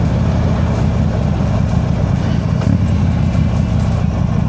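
A rare used motorcycle engine runs steadily and loudly up close, a constant low rumbling idle with a dense throb and no pauses.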